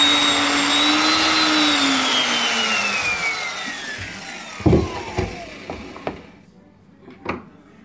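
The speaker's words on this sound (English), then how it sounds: "All right, so now he's going to drill the hole in this one." Power drill boring a hole in a wooden dollhouse piece: a whining motor pitch slides downward as the bit works through, then it stops and a few sharp knocks and clatters of wood follow.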